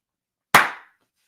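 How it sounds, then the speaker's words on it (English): One sharp hand clap lands in near silence, a single close crisp crack with a quick decaying tail, made as an audio sync spike. "I'm going to clap again to add the audio spike"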